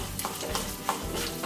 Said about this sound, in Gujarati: અહીં આપણી રાઈ પણ એકદમ સરસ ક્રેકલ થઈ ગઈ છે